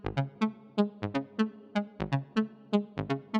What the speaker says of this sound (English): This one is really classic melodic techno pluck.